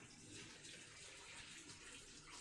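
Water pours steadily from a tap into a pan of vegetables and stock on a small burner. The broadband rush is faint and continuous, with no talk over it.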